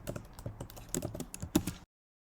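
Computer keyboard typed on in a run of quick, uneven keystrokes while writing code, close and fairly clear with no talk, stopping short before a silent end.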